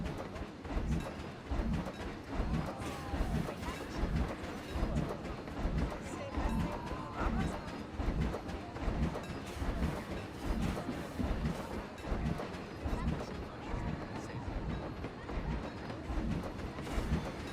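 A train ride in Planet Coaster on PS4, heard as a rhythmic clickety-clack of wheels over rails with low rumbling, steady throughout alongside light background activity.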